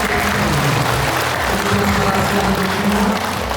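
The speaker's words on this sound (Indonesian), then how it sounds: "tepuk tangan" An audience of village nurses applauds at a gathering with the minister of villages in Mojokerto, Indonesia: steady, dense clapping throughout with voices mixed in.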